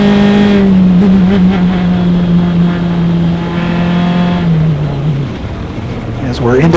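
Formula Continental race car at Mid-Ohio, multicolored number 71, passes at speed with a loud engine note that holds steady and then drops in pitch as it moves away, under track commentary.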